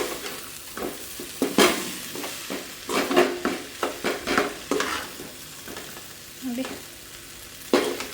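Okra curry with fresh coriander leaves being stirred in a pan, giving a run of scraping, clattering spoon strokes over a soft sizzle, close and fairly clear with no talk.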